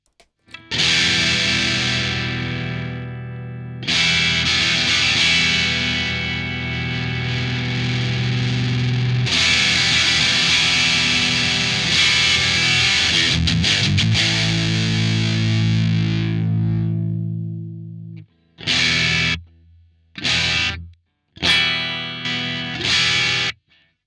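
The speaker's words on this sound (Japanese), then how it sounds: "ゲインゼロでもちょっと歪みますね。" Electric guitar through a Free The Tone Iron Forest distortion pedal with gain at zero, lightly crunchy: long sustained chords ring and fade, followed by a few short, choppy stabs near the end.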